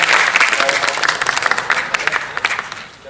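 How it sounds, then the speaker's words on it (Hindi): Strong applause from a seated audience at a literary foundation day gathering, dense clapping that thins toward the end into scattered individual claps, loud and near, with faint voices beneath. "एक बार जोरदार तालियां बजाकर उन्हें बुलाइए ताकि वे अपनी भूमिका में आए।"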